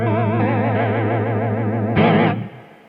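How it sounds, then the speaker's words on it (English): Electric guitar run through a chorus pedal set to three-quarter on every control, sustained chords with a strong wobbling, warbling shimmer that swells louder near the end before fading out, no talking. "That is exactly what I don't like about chorus."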